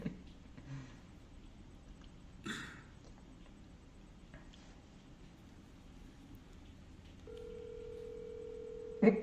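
An outgoing telephone call rings through as a steady electronic tone near the end, after a stretch of quiet room noise with faint, brief talk.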